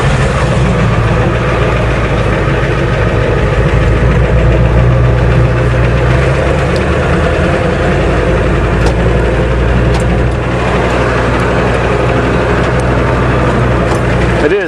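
A Ford truck engine runs steadily while driving, a loud, low rumbling drone with a knocking texture that stays constant throughout, with no talk.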